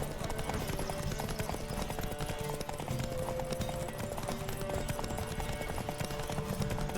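Rapid, continuous hoofbeats of a galloping horse in The Witcher 3: Wild Hunt, steady and close, with faint game music underneath and no speech.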